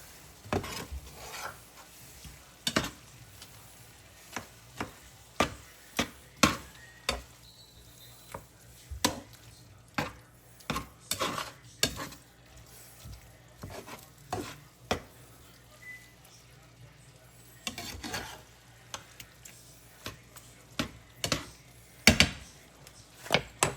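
Ketchup is stirred into a sloppy-joe-style turkey casserole mixture, heard as a string of soft, irregular spoon scrapes and knocks against the pan over a quiet background, with no one speaking.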